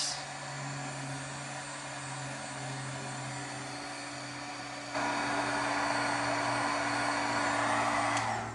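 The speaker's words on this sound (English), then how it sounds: "So if you let your heat gun just heat up for a minute." A heat gun warming up to melt embossing powder gives a steady, loud blowing whir that rises a step louder partway through and runs unbroken without speech.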